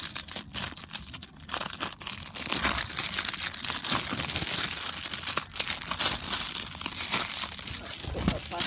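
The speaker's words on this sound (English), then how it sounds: "Let's put the plastic in that bag." Plastic wrapping on a Justice League vs. Bizarro League Blu-ray crinkles and rustles continuously at close range for several seconds, a busy crackling texture with a few sharper crunches.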